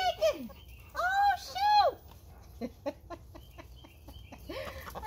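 Backyard chickens cluck and squawk nearby while eating, with several loud drawn-out calls early on and softer clucks and pecking sounds after, and a person's voice mixed in.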